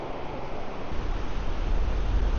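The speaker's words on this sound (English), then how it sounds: "She came down here to enjoy the sounds of the ocean and the Gulf breeze while I fish." Ocean waves and a Gulf breeze at the Galveston jetties, a broad steady rush of surf and wind with low rumbling buffeting, continuous and fairly loud with no voices.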